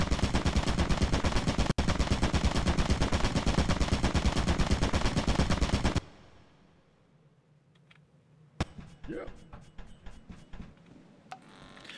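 An automated turret in the video game Lethal Company lets loose a loud, sustained burst of rapid machine-gun fire that cuts off abruptly, leaving scattered quieter clatter and thumps.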